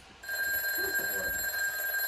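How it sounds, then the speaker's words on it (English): Telephone ringing indoors, a steady electronic ring with sustained bright tones that starts abruptly and holds loud and close, with no talk over it. "Oh no, it rings more. That's what my phone sounds like."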